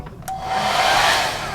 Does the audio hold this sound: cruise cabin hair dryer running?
yes